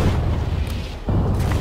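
Heavy booming artillery fire and explosions from the C&C Generals Rise of the Reds strategy game, two dense back-to-back blasts of rumbling low-end impacts, loud and close.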